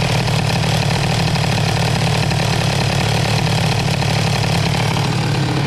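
A scooter engine fitted with an Airsal 77 XT kit, running rough with a carburetion problem, holds a loud, steady buzzing drone close by with no voices over it.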